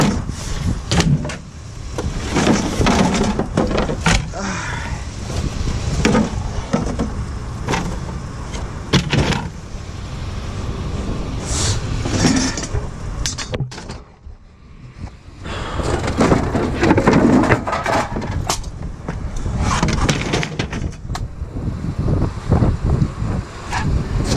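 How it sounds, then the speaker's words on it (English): Strong wind blowing outdoors, gusting in loud rumbling bursts that buffet the microphone, easing briefly near the middle before picking up again. "That wind's been ripping"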